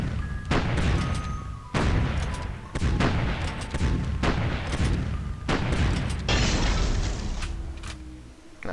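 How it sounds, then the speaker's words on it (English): Artillery bombardment of a city in Civilization III, a World War II scenario: a string of sharp, booming shell blasts arrive in quick, uneven succession, each with a rumbling tail, loud and close. "I'm bombarding it again."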